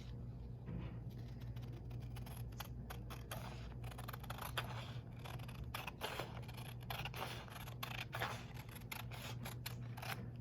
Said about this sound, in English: the next thing I'm going to do is I'm going to cut my background picture.